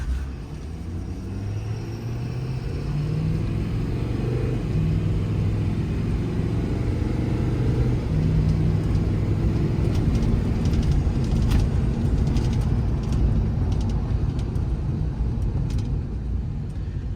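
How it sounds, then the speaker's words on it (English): A 2016 Ford F550 extended-cab 4x4 diesel work truck fitted with a crane and compressor drives and shifts up through its gears, the engine drone rising and settling steadily and loudly from close by, with no talking. "Shifts through all the gears nice and smooth."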